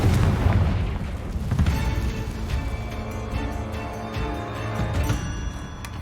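A Confringo fire spell goes off in Hogwarts Legacy, a loud booming blast at the start that rolls on into a sustained rumbling, crackling roar through to the end.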